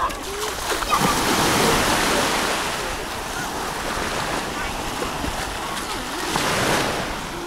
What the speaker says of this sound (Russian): смотреть на это замечательное море